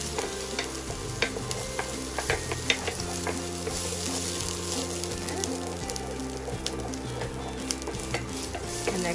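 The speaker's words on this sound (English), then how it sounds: "So I have the olive oil right here in the pan. What I'm going to do is add my onion." Onion sizzling in olive oil in a pan with steady crackle and sharp stirring scrapes, close and fairly loud, for a simple spaghetti with Angus beef; there are faint hums of background tone but no clear talking.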